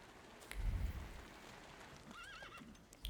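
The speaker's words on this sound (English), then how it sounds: "Walking the horse." Horse in the video game The Thaumaturge gives a clear whinny with a rising and falling pitch, preceded by a low thud of hooves and a soft rumble of movement, heard alone without any talking.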